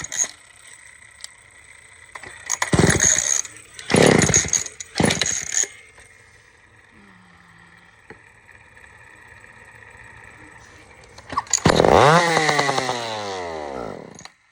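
An old Sears Explorer II chainsaw under repair fires in three quick, loud bursts, then settles into a thin, steady idle before revving hard and high near the end.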